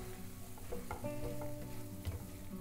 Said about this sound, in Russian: Снова перемешаем.